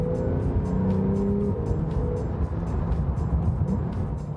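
A 2017 Porsche 911 Carrera 4S sports car engine drones steadily at moderate loudness, with a brief rising tone early on and a continuous low rumble throughout.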